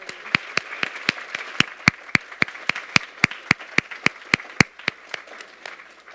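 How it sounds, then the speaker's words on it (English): Audience applause after a stress and resilience lecture, heard as sparse, distinct individual claps in a steady rhythm for about six seconds, fairly close, fading slightly toward the end. "can we give another round of applause to Dr. Alane Daugherty?"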